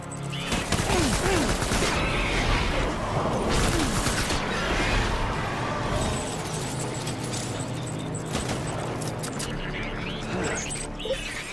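Dense, continuous gunfire from the Death Stranding video game, with sustained rapid bursts and crashes running throughout beneath frequent overlapping talk.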